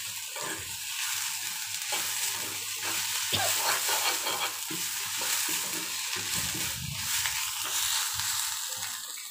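Onions and garlic with cumin and panch phoron spices frying in a pan for a beef spleen bharta, a steady close sizzle with stirring scrapes running throughout, no talking.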